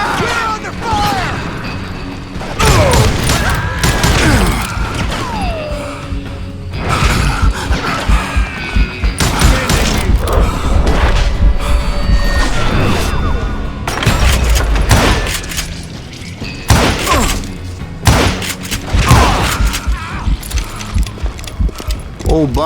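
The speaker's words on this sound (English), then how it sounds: "Who's shooting at us? We're under fire!" Gunfire in the western shooter Call of Juarez Gunslinger, with loud, dense bursts of shots and booms running throughout, mixed with game effects and a voice speaking over the action.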